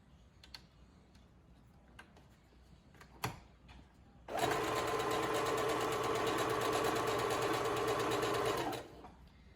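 A sewing machine stitches elastic onto a fabric face mask in one continuous run of rapid, even stitching of about four seconds, preceded by a few quiet handling clicks and taps.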